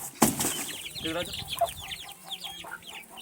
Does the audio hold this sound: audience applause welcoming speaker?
no